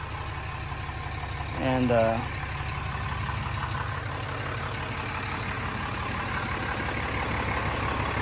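Turbocharged engine idles with a steady low, even chug throughout, and a brief voice speaks over it partway through.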